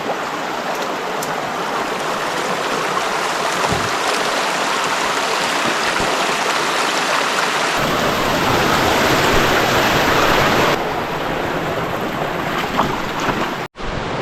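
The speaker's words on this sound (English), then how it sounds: "So through the middle of the stream we go." Someone wades through the middle of a shallow stream in the coastal jungle near Point Reyes Station, California, with loud, continuous rushing water close by throughout.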